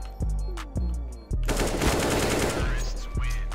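FAMAS rifle gunfire in a shooter video game: sharp, loud single shots and short bursts, several spaced reports with a dense rattling burst in the middle.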